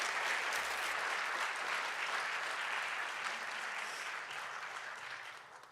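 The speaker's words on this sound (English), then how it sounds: "Let's give them a round of applause for their work and commitment to making a better environment." A college convocation audience gives a round of applause, broad steady clapping that stays full for several seconds and then gradually fades toward the end.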